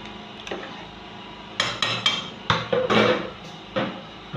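Rice being stirred in a pot while making Nigerian jollof rice: a spoon knocks and scrapes against the pot in irregular clattering strokes, loud and close.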